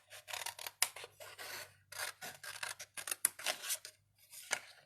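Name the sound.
scissors rough-cutting artwork for pendants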